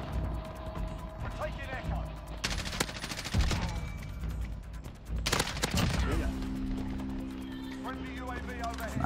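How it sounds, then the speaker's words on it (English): EBR rifle gunfire in a shooter video game: two loud bursts of shots crack through amid steady game noise, with a person talking over much of it. "Here's someone with an EBR shooting from here."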